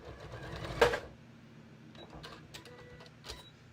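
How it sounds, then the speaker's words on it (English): A sewing machine stitches a half-inch hem along the edge of a knit tee, running in short, fairly quiet bursts with pauses between them. "So I'm going to sew a 1/2 inch from the edge."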